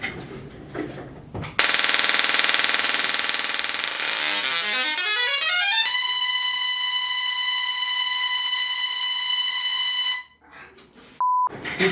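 A OneTesla Tesla coil buzzes loudly with a lamp on, sweeping upward in pitch before settling into a steady, piercing single tone that holds for several seconds and then cuts off.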